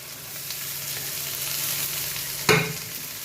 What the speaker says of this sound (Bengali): এখন ঢাকাটা খুললাম, একটু আদা এরকম করে দিলাম, একটু কাঁচা লঙ্কা